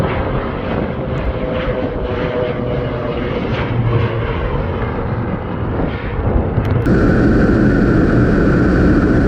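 A low-flying propeller airplane spreading seed over rice fields drones loudly overhead, its engine roaring steadily and swelling slightly as it passes low.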